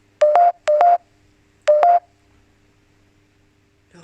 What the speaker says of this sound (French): Le radar, il sonne quand je filme là-haut.